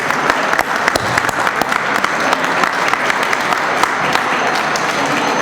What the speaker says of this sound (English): Please join me in a round of applause for Senator Farron